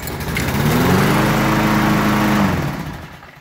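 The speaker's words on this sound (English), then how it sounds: "This lawnmower has not started that easily in a very long time." A 190cc Briggs & Stratton lawn mower engine with a repaired automatic choke catches after a pull and runs with a loud, steady buzzing drone close by, then begins to fade.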